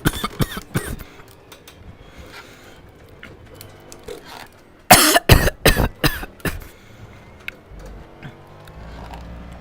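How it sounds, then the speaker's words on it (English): A person with a dry throat coughs, first a few scattered coughs, then a close, loud cluster of harsh hacking coughs before quieter throat sounds. "Why am I coughing?"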